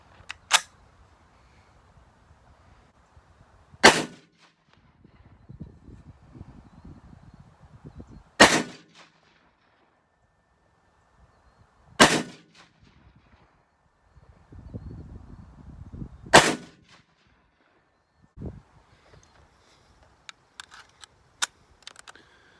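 A Remington Model 8 rifle fires several sharp reports spaced a few seconds apart, each a loud crack standing alone over a quiet background. Soft handling and shuffling noises fall between the shots.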